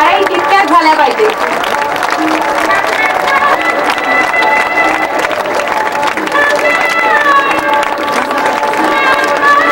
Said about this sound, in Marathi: टाळ्या तितक्याच झाल्या पाहिजे।